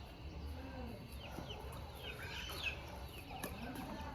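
Neighbours' chickens cluck and squawk as a toddler chases them, with scattered high calls over steady background noise and faint voices at a distance.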